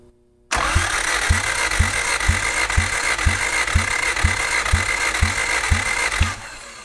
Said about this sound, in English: you can watch the gauge as we crank the motor over.